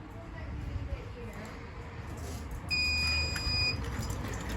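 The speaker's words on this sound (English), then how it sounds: "Gives you a beep to confirm it's in test." An older Fife Twinflex Checkpoint Plus fire alarm panel gives a single sustained electronic test beep lasting about a second, heard over a soft room background.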